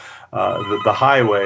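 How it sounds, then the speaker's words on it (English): A telephone rings in the background, partly buried beneath steady, continuous talk that runs through the whole stretch. "I apologize for the phone ringing in the background."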